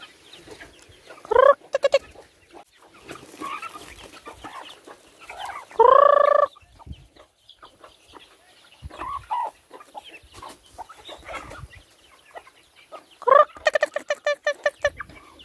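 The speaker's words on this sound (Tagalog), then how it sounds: "Nasaan na yung aking mga alagang manok?" Pet chickens being fed rice make repeated loud clucks and crowing calls, several prominent bursts with rapid stuttering clucks spread across the stretch, with quieter pecking and movement sounds between them and no speech.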